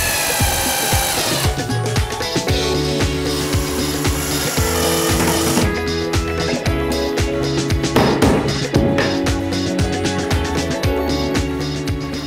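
A power drill drives lag screws into kitchen furniture modules while an old, small apartment is being decorated, whirring loudly in repeated bursts with short stops and shifts in pitch as each screw goes in.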